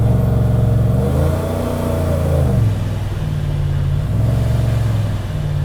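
Chevrolet Silverado truck with a tuned engine accelerating hard, a loud close rumbling rev that climbs through gears with pitch drops at the shifts, heard alone without talk.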